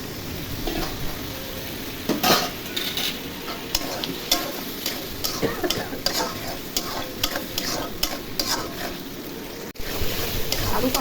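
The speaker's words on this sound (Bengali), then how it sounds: "আলু দিয়ে কষিয়ে দেবো" Potatoes fry with cumin, salt and spices in a pan, a continuous sizzle broken by repeated scraping stir strokes, close and fairly loud, with no talking.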